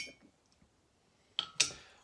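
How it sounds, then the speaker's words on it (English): A small glass taster clinks twice in quick succession as it is handled, with bright close contact sounds after a near-silent stretch. "So I'm going to get my little taster glass out."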